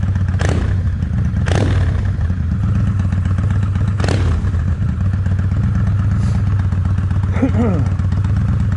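A Kawasaki Vulcan 800 Classic motorcycle engine idles with a steady low rumble, punctuated by several sharp throttle blips that rev up and quickly fall back, close and loud.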